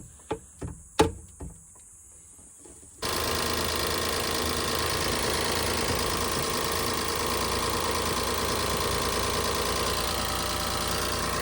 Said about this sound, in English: First startup since tightening both belts and adding that clip and oil change